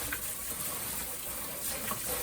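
Horseradish roots are rinsed under running tap water, a steady close splash and hiss of flowing water with no talking.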